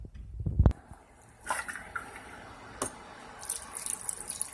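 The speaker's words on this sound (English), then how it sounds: "a cup of water" Water goes into a pot of Brussels sprouts with a teaspoon of vinegar, opening with a sharp knock and splash, then scattered quieter trickles and light clinks.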